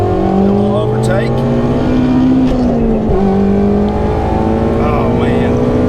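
A modified Shelby GT350 V8 revs up after a downshift to overtake on a backroad, its loud steady engine drone rising in pitch, dipping briefly at a gear change, then pulling hard again from inside the car.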